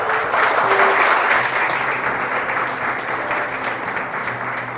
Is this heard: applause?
yes